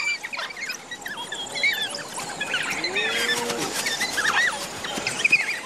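African wild dogs giving hunting calls, a mix of bird-like chirps, twitters and short whistling cries rising over a steady outdoor background, moderately loud and continuous.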